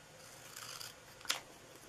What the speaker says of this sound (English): I'm just going to cut really close to the letters here.